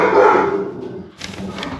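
A single dog bark, close and loud, followed by a brief softer yelp.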